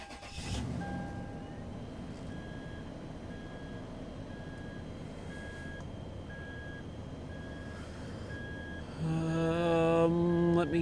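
A Toyota with 177,000 miles sits at an auction lot while a dashboard warning chime repeats evenly. Near the end a louder engine rumble swells in as the car starts up close by.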